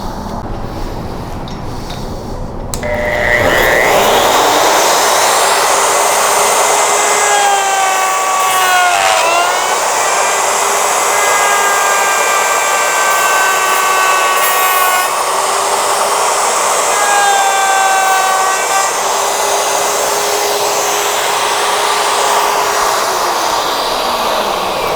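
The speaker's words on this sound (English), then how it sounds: "We'll just do like a straight cut on the side of the wood using the plunge feature." Ryobi 2 HP 10-amp plunge router making a straight cut along the side of a wood piece, a loud continuous high whine that starts after a brief clatter and holds steady, with pitch shifting slightly as it cuts.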